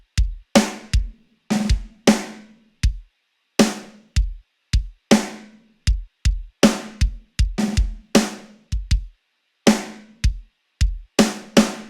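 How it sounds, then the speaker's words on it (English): A sampled kick drum from the MT Power Drum Kit thumps in a bouncy repeating pattern alongside crisp snare hits, a busy, loud, steady groove of many strikes with no other sounds. "I'm gonna lay down a kick pattern to complement the snare that sounds like this."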